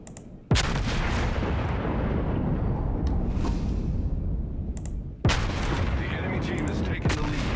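The Iowa battleship's big guns fire in World of Warships, two loud booming salvos with rumbling tails several seconds apart, followed by a sharper secondary crack and a continuous low engine rumble between shots.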